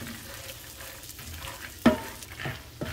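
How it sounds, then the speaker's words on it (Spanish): Garlic and peanuts frying in a pan, a low crackling sizzle broken by a few sharp scraping stirs, close and without speech. "Y continuamos moviendo para que no se quemen los ajos, porque si no se pueden amargar"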